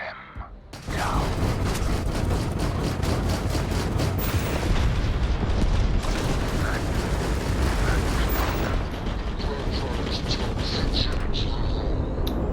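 A spaceship blows apart in a space battle in Starfield: a loud sustained roar of explosions and rapid weapon bursts that rumbles on with crackling blasts throughout.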